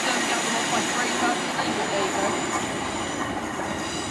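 A British Rail Class 153 diesel railcar rumbles past at Saltash, a loud continuous roar of wheels and engine with faint rail squeal, steady and close throughout.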